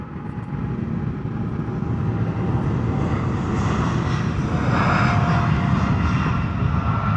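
A large jet airliner powers up for departure on runway 36L at Amsterdam Schiphol on a showery day, a deep, continuous engine roar that holds steady and grows slightly louder, heard from a nearby spotting position.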